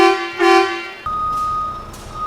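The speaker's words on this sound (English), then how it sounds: "And then the air horn." A loud, close truck air horn blares for about a second during a truck inspection, followed by a steady electronic tone with soft periodic bursts behind it.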